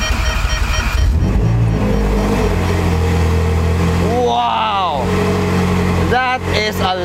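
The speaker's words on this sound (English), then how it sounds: "We just turn on the key, press the brake, and engine start." A Ferrari 458 Speciale engine cranks and fires up into a loud, rumbling idle, then revs sharply a couple of times, close by, with a voice speaking over it.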